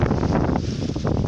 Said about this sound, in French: Il y a du vent.